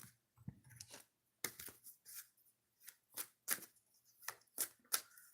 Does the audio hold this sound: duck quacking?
no